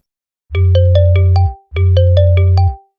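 Two loud electronic phone ringtone bursts, each a quick run of bright melodic tones over a steady buzz, separated by a short gap, with no talk.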